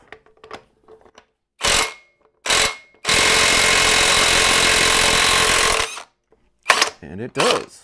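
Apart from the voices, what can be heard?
powered tool with 55 mm socket removing motorcycle hub nut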